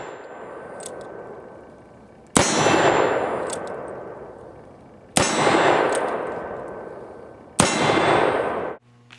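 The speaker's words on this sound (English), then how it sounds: "Now we'll shoot the short barrel Remington I built using the Kirst cylinder." Three loud, sharp shots ring out from a short-barrel Remington revolver fitted with a Kirst conversion cylinder, evenly spaced a couple of seconds apart, each one followed by a long, ringing decay.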